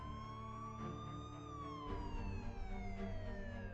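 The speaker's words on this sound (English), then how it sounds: "Another minute, she heard the distant cry of sirens." Police sirens in a game story, wailing tones rising and falling at moderate loudness with a layered electronic whoop, heard alone.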